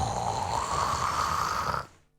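A person imitates a lion snoring with one long, steady rasping snore that lasts about two seconds and then stops abruptly, heard close and alone.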